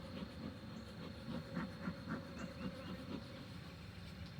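Agitated honey bees buzz around an opened hive during a swarm inspection, with a steady, fairly quiet drone close by and a low rumbling hum running beneath it.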